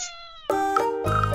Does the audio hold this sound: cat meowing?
yes